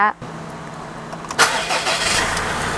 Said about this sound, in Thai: เรามาลองฟังเสียงเครื่องยนต์พร้อมกันเลยดีกว่า